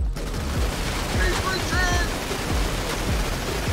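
Video game gunfire rattles in a GTA roleplay police scene, rapid repeated shots forming a steady, dense fusillade, loud and continuous, with brief tonal game sounds over it.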